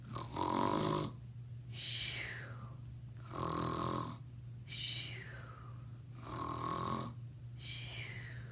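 Children imitate a sheep snoring in slow repeated cycles, four drawn-out rasping inhales each followed by a breathy whistle, with a steady hum underneath.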